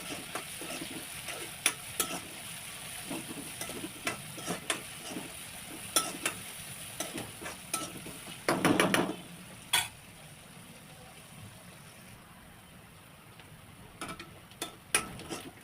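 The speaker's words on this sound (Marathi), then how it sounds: "त्यानंतर मिरची आणि कांदा कांदा तेलामध्ये परतून द्यायचा आहे" Green chilli and onion frying in oil for dal palak, faint low sizzle punctuated by frequent sharp spatula clicks and scrapes against the pan, with one louder burst of stirring midway.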